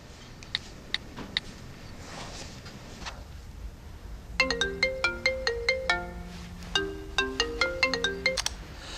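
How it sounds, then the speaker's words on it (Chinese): A mobile phone ringtone plays a bright repeating melody, loud and close, after a few faint ticks in a quiet room. "我打个电话问问他"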